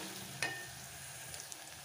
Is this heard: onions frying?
yes